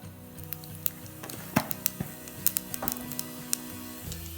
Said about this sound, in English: It has already started spluttering.